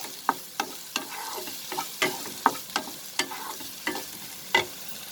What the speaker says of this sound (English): Just saute everything together for a minute